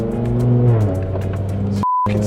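Loud V10 engine on a car fitted with a dual-clutch transmission, a steady deep harmonic drone with small pitch shifts as it runs, close and continuous, cut briefly by a single censor beep.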